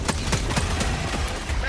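Automatic fire from a machine gun sentry in the video game Helldivers 2: a dense, steady stream of loud, sharp shots, with a few heavier bursts standing out, filling the whole moment.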